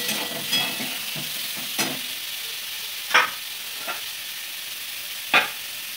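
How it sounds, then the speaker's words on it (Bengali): New potatoes fried in a pan for winter khichuri, with a steady soft sizzle broken by a handful of sharp stirring scrapes spaced a second or two apart, close by and with no voices. "আলুগুলো মোটামুটি ভাজা হয়ে গেছে"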